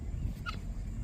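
A brief, faint bird call, a guinea fowl heard outdoors on a bison ranch over low background rumble.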